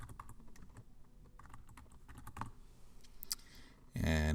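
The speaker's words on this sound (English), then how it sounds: "type all lowercase the Smiths" Typing on a computer keyboard, a quick irregular patter of light key clicks at close range, ending with a brief louder noise.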